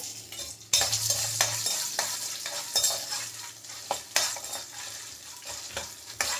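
Crushed garlic drops into hot oil in a pan on a home stove, a sudden sizzle followed by steady frying hiss and occasional scraping stirs, close and without talk.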